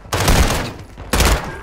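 Gunfire in Call of Duty: Modern Warfare II, two loud, close bursts of rapid automatic fire about a second apart, each with a dense roaring tail.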